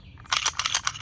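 An unloaded .40 caliber pistol handled and dry-fired, giving a close series of sharp metallic clicks and snaps over about a second, loud and alone.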